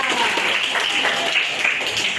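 A class applauds group 3 during a peer-teaching session, dense steady clapping from many hands filling the room throughout.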